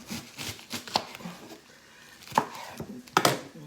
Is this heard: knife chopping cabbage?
yes